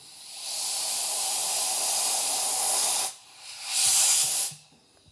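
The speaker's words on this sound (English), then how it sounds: "I have my air compressor and this air gun here, and it will blow" An air gun fed by an air compressor blows onto a plaster slip casting mold in a loud, close hiss lasting about three seconds, then a short pause and a second, briefer blast.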